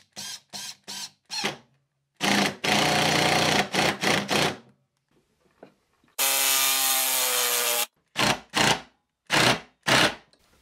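A 5x40 screw is driven into solid oak hardwood without a pilot hole, the driver grinding in several short bursts with longer sustained runs and pauses between them, close and loud.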